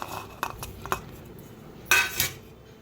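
Green chillies, garlic and ginger are pounded in a mortar, giving several sharp, uneven knocks with a gap before two heavier final strikes, close and without talk.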